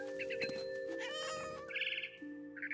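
A cat meows repeatedly in the video game What Remains of Edith Finch, several short mewing calls in a row over steady game music, fairly close and clear.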